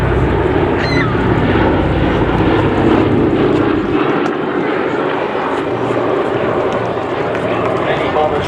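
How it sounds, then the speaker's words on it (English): A B-17 bomber, Sally B, flies past at the Midlands Air Festival with two engines trailing smoke, its propeller drone loud and sustained under continuous commentary from a speaker. "here we are for the final fly past, emulating an injured aircraft limping back with two engines smoking."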